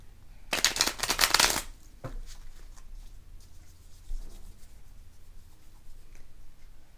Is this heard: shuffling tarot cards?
yes